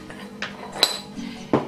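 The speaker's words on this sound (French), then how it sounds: "vous prenez du sucre en poudre et vous disposez 2 cuillères à soupe" Spoonfuls of powdered sugar go into mixed orange and lemon juice, marked by a few light metal-on-glass clinks and taps from the spoon, quiet and close, with no talking.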